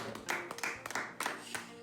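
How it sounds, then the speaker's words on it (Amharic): Several people clap their hands unevenly at close range indoors, with bursts of claps rising and falling over a couple of seconds, with a faint voice in the background. "እሺ አጨብጭቡ።"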